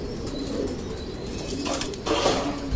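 Pigeons in a loft of Egyptian racing pigeons, a soft continuous cooing murmur from many birds at moderate distance with steady room ambience, and a brief rustle of wings near the end.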